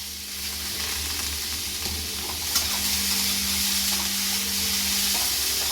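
Chopped onion fries in hot oil with potatoes and peas, sizzling steadily while being stirred, with a light knock of the utensil against the pan midway.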